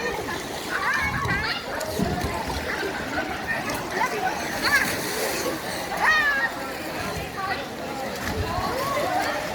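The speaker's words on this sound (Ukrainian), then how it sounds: "руки, ноги прямо і так так і скочить в воду" People jump into water at a busy outdoor swimming spot, with repeated splashes under steady crowd chatter and children's voices.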